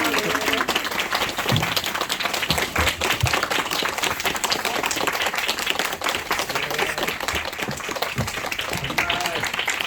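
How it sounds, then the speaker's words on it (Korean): Cinema audience at a guest-visit screening clapping steadily for about ten seconds, dense and sustained with scattered sharper claps and a faint voice underneath. "네, 여러분 기특한 박수."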